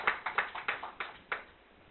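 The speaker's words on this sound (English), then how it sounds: "So I would like to give you a round of applause for them" A few people clapping at a meeting, roughly seven separate hand claps in an uneven, sparse rhythm, thin and brief rather than a full round of applause.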